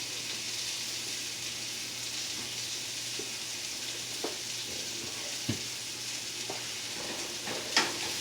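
Onions sizzle in a hot pan under a steady, moderately loud frying hiss, broken by a few soft clicks and scrapes of stirring.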